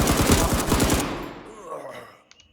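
Automatic rifle fire sprays in a rapid, loud burst during a round of Incursion Red River, dense shots for about a second before tailing off into fainter echoes and a couple of distant pops.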